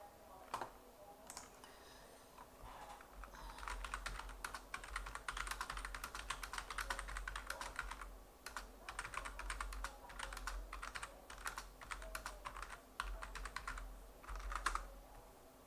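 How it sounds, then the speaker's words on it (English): Steady typing on a computer keyboard, close and fairly quiet, with bursts of rapid key clicks and short pauses and no talking. "I'm gonna type in the chat."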